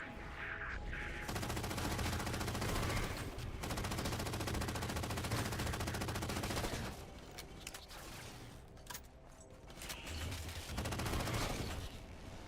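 A light machine gun firing in Halo 4, rattling out long sustained bursts of rapid shots, loud and close, with brief pauses between strings of fire and no voices over it.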